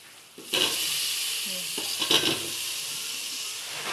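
Mixed vegetables, including beans, potato, cauliflower, tomato and radish, drop into a hot frying pan with a sudden loud sizzle, then stirring scrapes and a steady frying hiss follow.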